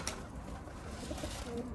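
Soft pigeon cooing in the background from a coop of Mardin pigeons, a few low murmuring calls under a steady noisy ambience.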